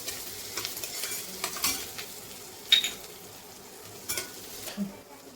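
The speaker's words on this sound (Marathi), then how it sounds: "आता यामध्ये टाकूया आलं लसूण पेस्ट. ही छान परतून घ्यायची आहे." Ginger garlic paste and onions are sautéed in a pan, with repeated scraping stirs of the spoon and clinks against the pan over a gentle sizzle, close and fairly loud, with no talking.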